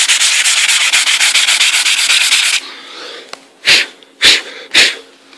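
A CNC router conventional-cuts bamboo wood, a loud steady rasping mill for about two and a half seconds, then a quieter hum broken by three short loud bursts of cutting.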